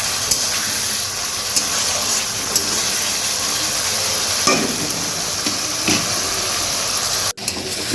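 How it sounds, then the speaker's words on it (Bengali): Fried potatoes being sautéed with spice paste in a pan for a vegetarian soybean dish, giving a steady close sizzle with scraping stir strokes and a few sharper clinks throughout, no talking. "এবার এই আলুর সাথে আমি মশলাটা ভালো করে কষিয়ে নেব।"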